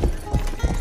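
Three heavy hoof thuds from a horse in the medieval game Rustler, evenly spaced and close, with a faint neigh-like tone between them.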